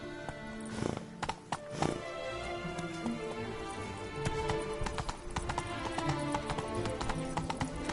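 Roach the horse's hooves in The Witcher video game clip-clopping in a steady trot amid a dense game soundscape, with a brief whinny, fairly close and sustained throughout.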